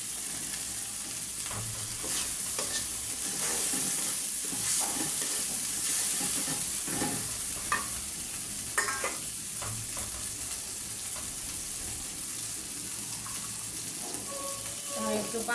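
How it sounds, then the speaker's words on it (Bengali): Prawns frying in spiced oil while being stirred, a steady close sizzle with scraping stirs and utensil clicks, part of cooking prawns with taro greens. "এখন চিংড়ি মাছগুলো দিয়ে দিব।"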